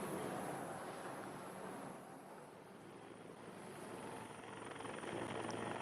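A helicopter carrying the bodies of air crash victims approaches Sultan Hasanuddin airport in Makassar, its rotor drone steady and moderately loud throughout, swelling slightly toward the end.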